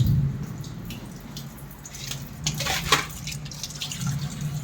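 Water runs and splashes in a kitchen while fish is being soaked, a soft hiss with irregular drips and sloshes that grow busier midway, fairly close and with no talking.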